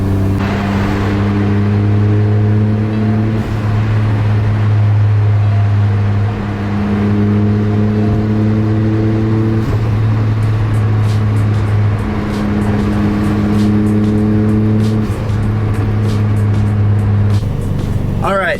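A small Suzuki Cappuccino kei car drives steadily, its engine drone holding a constant loud hum with brief shifts in pitch as it changes gear, heard from inside the car without talk.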